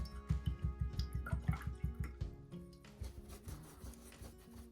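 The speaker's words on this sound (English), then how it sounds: "Take that brush, wash it off." A paintbrush is washed in water, making a quick run of rhythmic tapping and swishing strokes against the container, then slower, softer dabs and drips, close and fairly quiet.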